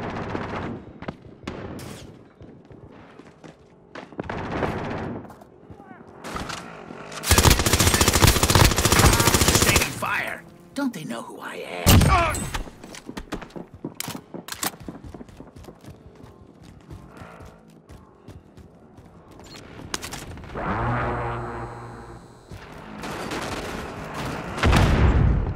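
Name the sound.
gunfire in Call of Duty Modern Warfare video game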